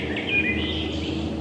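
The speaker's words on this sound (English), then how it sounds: "Birds are screaming everywhere, except for turkeys, of course." Birds chirp and sing in a Pennsylvania forest at sunrise, a short stretch of high calls over a soft, steady outdoor background.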